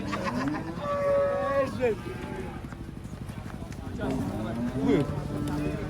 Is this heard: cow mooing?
yes